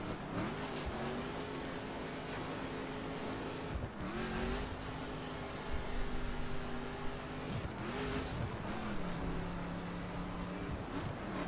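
A racing car's engine in The Crew drones at sustained revs, with the pitch dropping sharply at each gear shift around every few seconds, plus faint tire noise and high whooshes, no voices.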